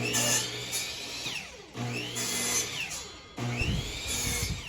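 A power saw cuts wooden boards to length for a dog house, three separate cuts each starting with a rising whine and running steady for about a second and a half, close and fairly loud with no talk.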